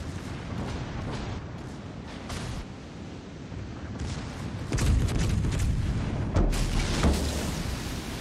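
Torpedoes hit a battleship's stern in World of Warships Legends. Heavy booms cut through a constant low rumble of naval combat, with a couple of deep impacts landing close together.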